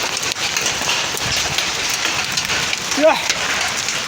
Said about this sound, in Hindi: खतरनाक बारिश हो रही है, ढांडे पड़ रहे दोस्त